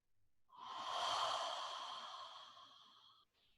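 A deep breathing-exercise inhale and exhale during a hatha yoga session: one long, close breath swells and then fades out slowly over a few seconds, alone in a quiet room.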